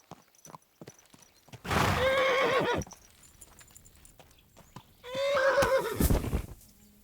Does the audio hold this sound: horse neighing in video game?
yes